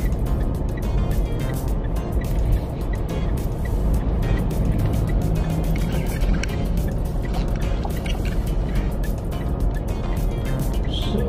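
A Mitsubishi Montero Sport drives into a tire alignment service center, its engine a steady low rumble with continuous road and tire noise, nearby and unbroken throughout.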